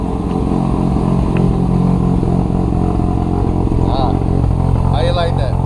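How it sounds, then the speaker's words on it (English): A Mazda RX-7 FD rotary engine warming up idles in a loud, close, steady buzzing drone, with a voice talking over it near the end. "How you like that? Rotary engine."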